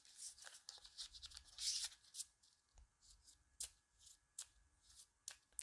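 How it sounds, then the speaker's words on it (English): A deck of item cards for a board game is shuffled by hand in quick, close, crisp riffles and snaps, separated by brief pauses, with no voices. "we're going to shuffle the old item deck"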